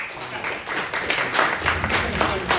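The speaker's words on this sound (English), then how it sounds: "Round of applause for Katya." Applause from an audience at a talk on mushroom innovation, a dense steady wash of many hands clapping for a couple of seconds, fairly loud and close.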